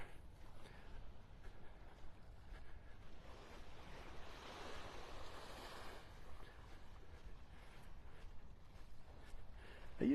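Surf washes onto a beach in North Naples, Florida, a soft continuous roar of breaking waves with wind buffeting the microphone, distant and faint throughout.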